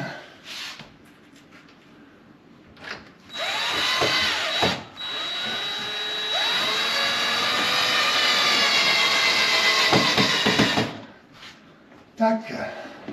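A power drill drives the final screw while a Bosch dishwasher is fitted into a kitchen, its motor whining loud and close for several seconds in two long runs, with short clicks and brief talk before and after.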